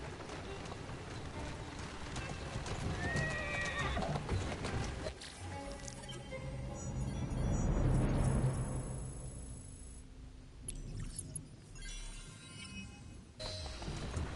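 Horse hooves clip-clopping at a run in Assassin's Creed Syndicate, a steady galloping rhythm with game music and ambience, swelling louder midway before easing off; no clear neigh stands out.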